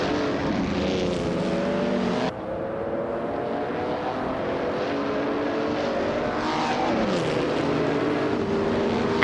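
Race cars, with a 1952 Ferrari 375 Indy at the front, roar down the track at Hockenheimring Retro GP in a racing video game, layered engine tones rising and falling in pitch through gear changes, loud and continuous.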